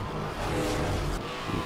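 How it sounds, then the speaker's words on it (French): A car in the Need for Speed Hot Pursuit video game roars past at full speed in a steady, loud engine rush with a brief tire-squeal edge, alone without talk. "Une voiture vient de me doubler à pleine vitesse."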